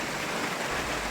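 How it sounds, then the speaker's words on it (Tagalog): Heavy rain pouring steadily on a surface outdoors, a dense continuous broadband hiss with no voices, close and even throughout. "Ang lakas ng ulan."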